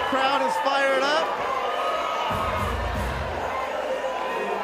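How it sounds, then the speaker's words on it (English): A boxing crowd at a women's heavyweight bout cheers and shouts loudly at the final bell, an excited roar of voices with whoops, fading slightly into a lower hubbub, close and busy. "The crowd is fired up."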